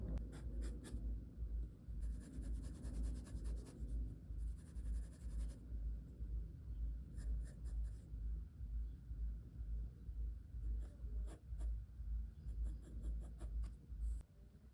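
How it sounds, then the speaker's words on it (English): An HB pencil shades on paper while a face is being drawn: close, dry scratchy strokes come in steady repeated bursts with short pauses between them, and no voices are heard. "I'm still using an HB pencil, and that is even enough to shade."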